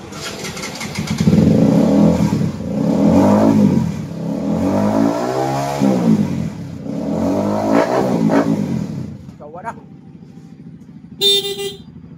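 An RS200 fuel-injected motorcycle with a replacement fuel pump starts and revs up and down several times close by, loud and rising and falling in pitch, then cuts back to idle before a short horn toot.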